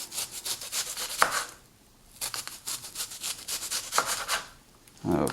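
Tomato and onion pico de gallo stirred in a bowl, giving repeated scraping and rubbing strokes in bursts with short pauses between.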